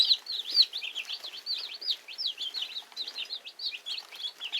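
Baby chicks in a small home brooder chirp continuously in a dense overlapping chorus of high peeping calls, with soft flutters of wings mixed in, close and fairly loud, with no talking.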